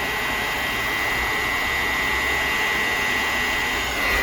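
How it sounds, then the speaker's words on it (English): A diesel heater's blower fan runs at a higher speed, giving a steady, close, airy whoosh with a thin constant whine that stays even throughout and rises slightly at the very end. "Just wind that fan speed up just to get rid of any excess temperature inside the housing."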